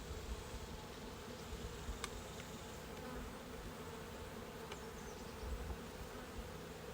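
Honey bees buzz steadily during a July hive inspection on a warm 70-degree day, a dense continuous drone close by with no talking over it.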